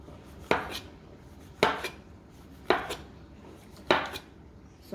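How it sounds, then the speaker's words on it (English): A knife slicing washed mushrooms on a cutting board: four evenly spaced sharp chops with brief decays, close and clear, no speech. "so I washed my mushrooms. We're just gonna slice them up"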